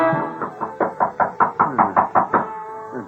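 Rapid knocking at a door, about a dozen close, hollow raps in a quick even run, heard alone.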